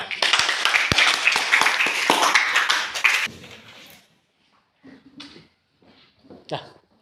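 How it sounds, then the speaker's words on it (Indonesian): Classroom students clapping hands together in a loud, dense burst lasting about three seconds, then trailing off into quiet with a few faint voices afterward. "Ya, tepuk tangan dulu kita semua."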